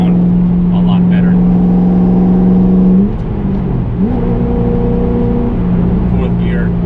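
A 2013 Shelby GT500 pulls hard with a loud, steady engine drone, then a quick shift dip before the pitch rises again as it keeps accelerating, with someone talking over the engine.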